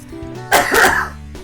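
A single sharp human sneeze, close and brief, bursting out over a quiet background.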